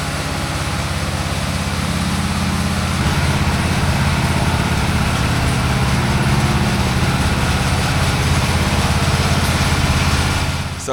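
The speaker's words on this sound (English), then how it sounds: "now they're polishing the concrete" Concrete floor polishing machine running on a new barndominium slab, a loud steady engine drone with a constant low hum that continues unbroken throughout.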